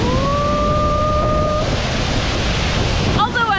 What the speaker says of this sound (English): enjoy the massive waterfall that exists right in city center